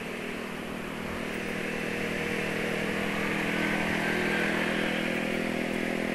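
A stock Yamaha NMAX scooter rides at a steady pace, its engine holding a constant drone with a slight rise in loudness. No other sounds break through.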